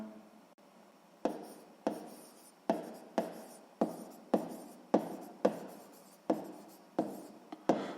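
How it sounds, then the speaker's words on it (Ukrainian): Pen or pencil writing by hand, working through a sixth-grade maths exercise, with about a dozen quiet, regular strokes and scratches close by in a hushed room. "Записуємо неправильно."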